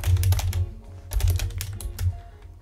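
Computer keyboard typing heard up close in quick bursts of clicky keystrokes separated by short pauses, fairly quiet with no talking.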